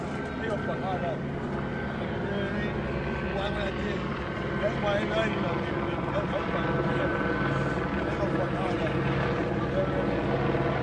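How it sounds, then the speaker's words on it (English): A police helicopter drones steadily overhead, a constant rotor rumble beneath a noisy protest crowd and scattered voices. "You can hear the police helicopter above."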